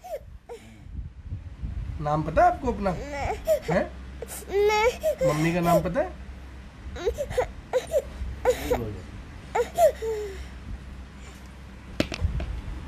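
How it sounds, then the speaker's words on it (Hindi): A lost young child, found near Jat Bhawan in Sector 12, whimpers and sobs in uneven bursts while adults speak to him nearby, their voices mixing with his crying throughout. "बच्चा काफी ज्यादा रो रहा है"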